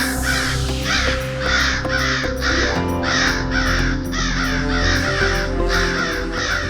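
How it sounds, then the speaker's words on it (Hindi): Several crows caw in a quick, rhythmic series of harsh calls, loud and close, repeating steadily over a sustained low musical drone in a staged mythological drama scene. "काक तो आ गए"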